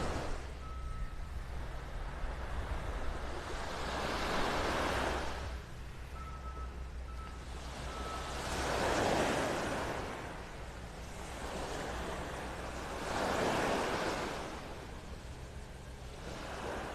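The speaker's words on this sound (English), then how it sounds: "This is the beach at the La Playa." Surf washing ashore at La Playa on Vanderbilt Beach in North Naples, Florida, swelling in slow, broad waves roughly every four seconds over steady wind noise.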